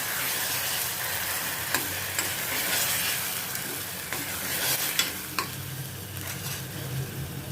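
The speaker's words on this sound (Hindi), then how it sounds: "इसमें अभी मैं ये ग्रेट किया हुआ मैं टमाटर डालती हूँ।" Grated tomato frying over a low gas flame in a pan, with a steady sizzle and several short scraping stir strokes at close range; no one speaks.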